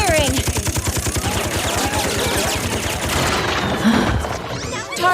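Gunfire rattles in Persona Q: Shadow of the Labyrinth as rapid repeated shots, a steady machine-like burst running for several seconds under game music and effects, then trailing off.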